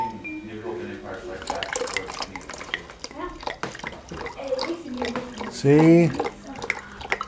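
Water glugs and splashes as it is poured from a wine bottle into a Christmas tree stand, with a burst of bubbling gulps near the end, while someone talks over most of it.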